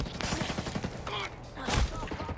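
Rapid bursts of gunfire from a firefight in Ghost Recon Breakpoint, a military shooter video game, loud and continuous with a heavy thump near the end, mixed with in-game noise and faint voices.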